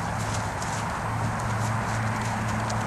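Hooves of an Andalusian/Arabian cross rescue mare walking during an early ride, a continuous close clip-clop under steady broad background noise.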